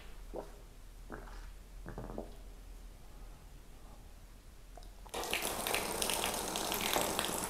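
Water gushing under pressure from a pipe into a drinker in a new pig barn, bursting on suddenly after a few faint knocks and quiet moments, then rushing as a loud, steady hiss to the end.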